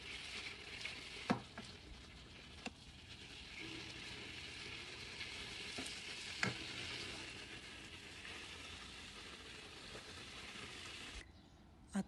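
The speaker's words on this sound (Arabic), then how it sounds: "ونشوح الدجاج، نحط عليه فليفلة وثوم ونقلب" Chicken breast sautéing in a pan with peppers and garlic over onion and sumac gives a steady, moderately loud sizzle, with a few sharp clinks of stirring and a brief quiet near the end.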